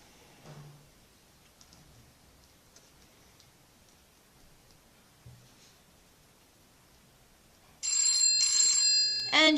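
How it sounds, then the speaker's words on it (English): A kids smart watch rings with an incoming phone call, a bright electronic ringtone bursting in loud after a long stretch of near silence with faint ticks and handling noises. "And you have the phone ringing on the watch."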